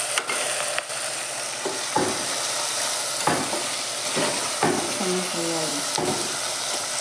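Onions frying in a pan for kichadi, browning to a reddish colour, with a steady broadband sizzle broken by occasional scraping stirs; close and fairly loud throughout.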